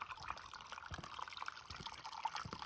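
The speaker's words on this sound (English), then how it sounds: "I can hear trickling water here, so I'm guessing this must be a natural spring." Water trickling from a natural spring beside an 1870s spring house, a soft steady babble with small splashy drips, close by and alone.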